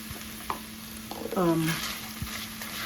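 Onions, olives and pepper frying in oil in a casserole pan, a steady soft sizzle with a few utensil taps and a brief voiced sound in the middle.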